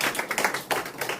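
Audience clapping at the close of a festival development policy forum, a dense patter of hands filling the whole short stretch at moderate loudness with no talk over it.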